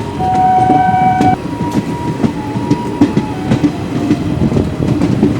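An Indian Railway train runs through the Saranda jungle, the steady rattle and clatter of wagons rolling close by, with a sustained horn-like tone at the start and repeating clickety-clack beats throughout.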